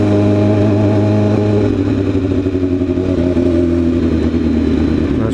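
A motorcycle lane splits through traffic, its engine droning loud and close with a mid-pitched rumble that shifts as it moves, plus wind and road noise and passing cars.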